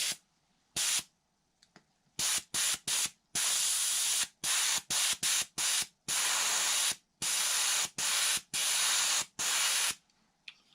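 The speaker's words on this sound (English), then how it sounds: "Now I'm going to spray some of this PVA in there." PVA release agent sprays onto a waxed mold for a carbon fiber bellcrank layup in short hissing bursts. The bursts stop and start irregularly, with longer sustained sprays between them, loud and close.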